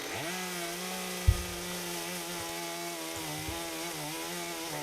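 A chainsaw engine runs steadily and loud while carving wood, its droning whine holding pitch with slight revs, plus a brief knock partway through.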